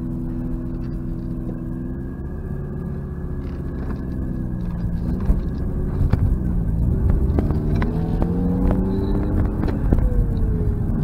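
1988 Mazda RX7 driving and shifting through its gears: a close, steady engine drone from inside the car, rising in pitch, dropping at each shift, then climbing again, with light rattles and clicks.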